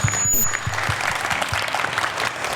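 Audience applause at a Korean startup incubation talk concert, a short burst of clapping from a seated crowd, fairly loud and dense.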